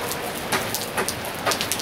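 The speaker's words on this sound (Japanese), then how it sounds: "林さん雨に打たれるから。" Steady rain falls close by, a dense hiss of drops spattering on surfaces with brief heavier splashes, and no voices are heard.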